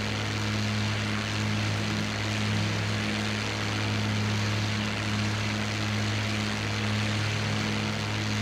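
Steady, continuous drone of a propeller-driven warplane engine in the IL-2 Great Battles flight sim, a loud even hum with strong low tones and airy wash, running unchanged throughout with no talk.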